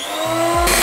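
Banana cake batter being mixed with flour and baking powder, a steady close whirring hum that grows louder and brighter toward the end.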